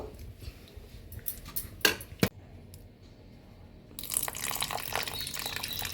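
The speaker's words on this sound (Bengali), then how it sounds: "আমি জল দিয়ে দিলাম।" Water is poured into an oats and curd batter, a short trickle and a couple of clinks of a utensil, then a brief quiet before louder running, splashing water returns.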